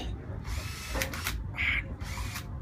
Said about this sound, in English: drill a couple of holes